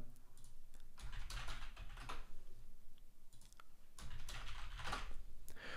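Code is typed on a computer keyboard in bursts of quick, fairly quiet key clicks separated by short pauses, close by and with no speech over it.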